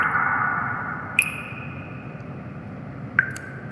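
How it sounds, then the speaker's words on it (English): Bright water-droplet notification plinks from a Xiaomi Redmi Y2 phone, one fading at the start, then two more spaced a couple of seconds apart, each ringing briefly over faint hum. "Listen carefully to the different tones of water droplets here."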